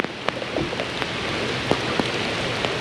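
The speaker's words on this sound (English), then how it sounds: "Oh, here comes the rain." Rain beginning to fall over a flooded river, a steady hiss of drops with scattered sharper patters landing nearby.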